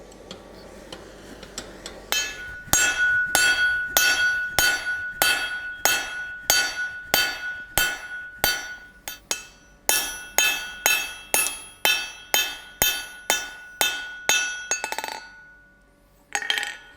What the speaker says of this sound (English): we forged our round bar down to our chisel section